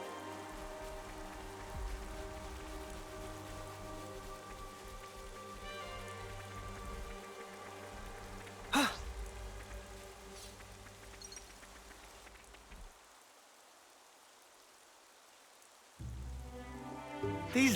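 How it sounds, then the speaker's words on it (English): Rain falls steadily in the game Xenoblade Chronicles 3, a soft constant hiss under game music that drops out for a few seconds near the end before returning. "Rain."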